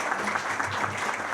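Audience members at a club talk give steady, dense applause to welcome a speaker, with a continuous wash of clapping from start to finish and no voices clearly standing out.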